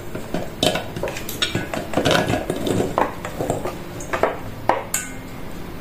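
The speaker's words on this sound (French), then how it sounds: "Je vais le verser dans mon saladier." Cooked potimarron squash tipped into a salad bowl, with several sharp clinks and scrapes of utensil against the dish and soft thuds of the pieces landing, close and fairly loud, no talk.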